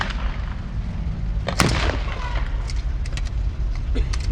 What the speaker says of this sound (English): you should get the 75mm, there goes the big gun again